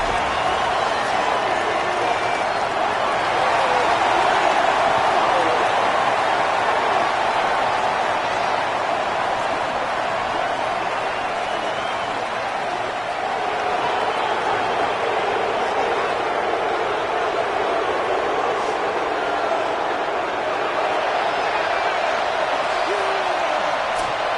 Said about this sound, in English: The crowd has this place jumping already.